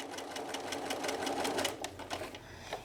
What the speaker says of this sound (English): I'm going to go ahead and just stitch across the line between 1 and 2